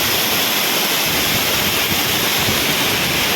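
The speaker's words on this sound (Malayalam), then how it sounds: "ഇവിടുന്ന് ആ വെള്ളം ചാടിപ്പോകുന്ന കാണാൻ സാധിക്കും" Areekal waterfall in Pampakuda, Muvattupuzha, water pouring over a check dam: a loud, continuous broadband rush and roar, close by and steady, with no voices over it.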